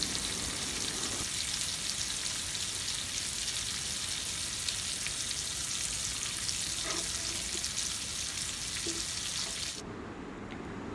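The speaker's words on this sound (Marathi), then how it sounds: "या तुकड्या आहेत त्या एका बाजूनी छान प्रकारे आपण फ्राय करून घेणार आहोत." Pieces of pomfret fish fry in a pan over a medium gas flame, giving a steady, loud, close sizzle that crackles evenly for about ten seconds and then drops sharply in level near the end.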